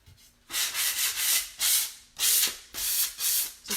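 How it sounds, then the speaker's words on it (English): A sanding pad rubs lightly over a polyacrylic finish on a wooden crate, several short close scrubbing strokes of even length in steady rhythm, no talk. "just give it a light sand"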